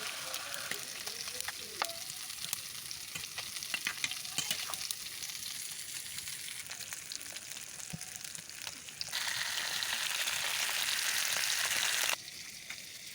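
A fish and vegetable curry sizzles steadily in a pan in a village kitchen, with scattered scraping stir strokes and a louder burst of frying partway through.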